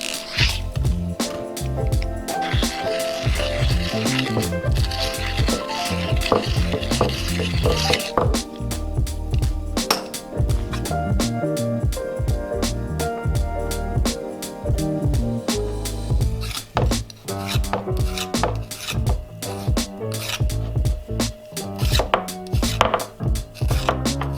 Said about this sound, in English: taking a deburring tool and just rounding off the inside of the band